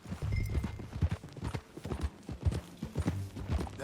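Horse hooves clip-clop in a steady, close rhythm in the Red Dead Redemption 2 video game, over a low rumbling background, with no voices.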